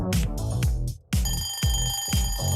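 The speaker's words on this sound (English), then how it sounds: "An alarm sound effect when the time is over," An alarm-clock style bell rings in repeated bursts with a brief gap near the middle, loud and close, used as a quiz timer sound effect marking time running out.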